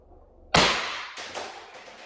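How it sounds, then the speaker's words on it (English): A single sharp gunshot from a rifle firing a Salt Supply kinetic round, loud and close, with a sudden crack and a short decaying echo, followed by a fainter reflection about half a second later. "And the fifth shot."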